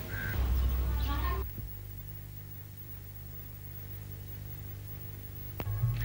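A crow gives a couple of loud, close caws at the start, then a low steady hum and faint static carry on, with a soft click near the end.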